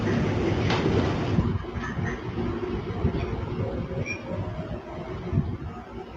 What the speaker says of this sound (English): The train starts moving again.